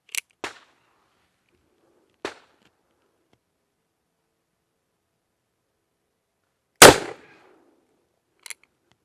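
Cimarron .44 Magnum and 10mm revolvers fired at a target about 12 yards away, across a chronograph: a handful of sharp, irregularly spaced shots, one much louder and longer-ringing than the rest.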